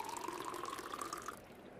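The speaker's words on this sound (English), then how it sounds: "I fill my water bottle to stay hydrated." Water running from a tap into a water bottle, a steady trickling pour with a rising filling tone that stops near the end, quiet and close.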